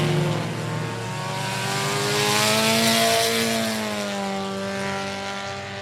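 Sport Compact race cars at I-37 Speedway roar off the start of a heat race, several engines revving together in a loud, sustained, rising drone with shifting pitch as the pack accelerates.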